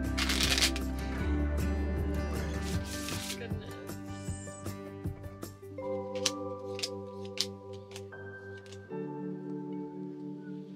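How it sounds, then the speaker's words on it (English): A new deck of playing cards being shuffled, with a riffle burst of flicking cards at the start and scattered light card snaps later, heard close over a steady low hum and faint background voices. "So we're gonna play with our new deck of cards"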